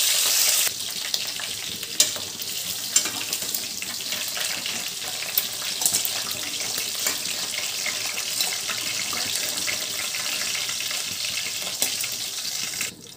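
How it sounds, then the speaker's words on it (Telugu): Crabs frying in a pan for crab curry give a steady, close hiss of sizzling oil with faint stirring, running without pause and with no voices. "ఈ పీతలు మనకి బాగా ఫ్రై అయ్యాయి కదా"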